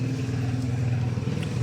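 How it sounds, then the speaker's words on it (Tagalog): Steady low engine drone of motorcycles passing by a house, a continuous rumbling hum at moderate loudness without clear build or fade, no voices. "Kanina pa may mga motor na dumadaan."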